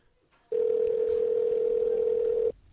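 A house telephone gives a steady, unbroken ringback tone lasting about two seconds, loud and close, starting and stopping abruptly after a quiet lead-in, with no speech over it.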